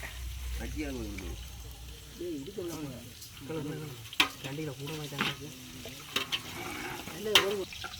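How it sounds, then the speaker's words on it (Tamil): Onions fry in a pan with a soft, steady sizzle and occasional stirring clinks, heard close and fairly quiet under people talking. "வெங்காயம் வந்து ஓகே பொரிஞ்சிட்டுது பொன்னிறமாக வந்துட்டு"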